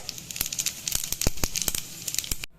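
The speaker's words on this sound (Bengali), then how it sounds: "তেলটা গরম হয়ে গেছে, এবার তেলের মধ্যে জিরে দিয়ে দিচ্ছি গোটা জিরে।" Whole cumin seeds hit hot oil in a kadai and give close, sharp crackling sizzles, a dense run of pops and spits over a soft hiss that stops abruptly at the end.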